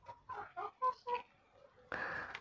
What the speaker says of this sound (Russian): Обычно как они так сокочат, шукают гнездо.